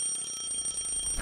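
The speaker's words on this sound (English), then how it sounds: "I shut off the alarm by reflex." Alarm clock ringing in a video game, a steady continuous electronic ring sustained at even loudness, ending in a short burst as it is shut off.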